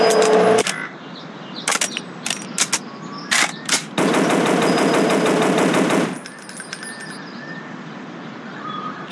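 Gunfire rings out in the mobile hunting game Dinosaur Hunter, first as scattered single shots and then as a sustained automatic burst of about two seconds. The shooting is loud and close, with game ambience between the shots.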